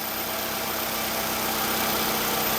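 A Toyota Highlander running lean and losing power idles close by, giving a steady engine hum with faint vibration that holds level throughout, with no talking.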